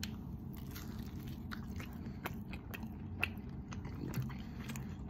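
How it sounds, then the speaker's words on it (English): Crunchy pizza crust from a Buffalo chicken pizza at a Las Vegas pizzeria is bitten and chewed up close, with a few sharp crackling bites over a low, steady murmur of restaurant background noise. "listen to this crunch."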